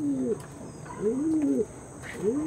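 An Andhra pigeon coos close by, three soft, low, rolling coos spaced about a second apart over a faint steady background hum.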